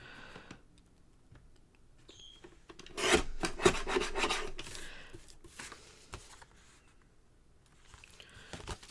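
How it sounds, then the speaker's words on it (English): Edge of a craft piece trimmed off as a thin sliver, heard as a close, brief burst of scraping and rasping cuts in an otherwise quiet room. "I'm going to trim that edge."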